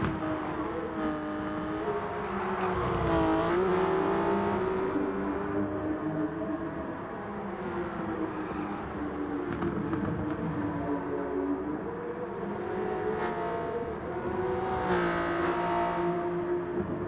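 Street cars racing on a track, engines revving and shifting as cars roar past, sustained loud motor noise rising and falling with repeated accelerations and passes.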